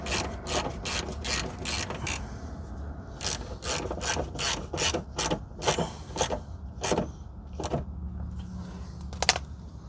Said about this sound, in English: now you need to tighten the other bolt back here